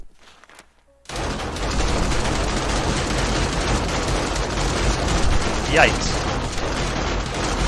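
A large group of spawned bandits in a video game fires pipe machine guns, a continuous dense roar of rapid gunfire that starts abruptly after a brief quiet moment, with a voice briefly exclaiming over it.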